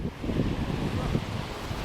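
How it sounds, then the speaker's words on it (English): Ocean waves and wind at Laguna Beach, a steady low rumble of surf and wind buffeting the microphone. "I love the ocean."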